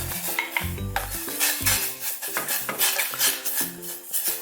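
A spoon stirs flour paste for kimchi in a pot on the stove, scraping the bottom with repeated metallic clinks and knocks. The stirring is close, loud and irregular, with a faint bubbling hiss beneath.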